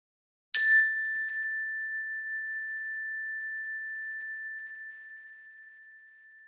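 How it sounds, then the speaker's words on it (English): Meditation bell struck once to open a guided practice, a clear bright ding that rings out and slowly fades over several seconds in otherwise silent surroundings. "you'll hear a bell at the start and at the end of this practice"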